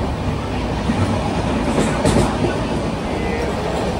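Loud, continuous rumble and rattle of a moving Jan Shatabdi Express coach on the Konkan Railway, heard from inside in rain, a broad steady roar with faint rhythmic clatter.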